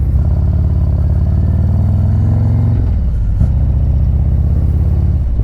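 A Harley-Davidson motorcycle with a 131 cubic inch Stage 4 crate engine rumbles loudly and close while being ridden, a deep steady V-twin drone that shifts pitch as the throttle rolls off and picks back up.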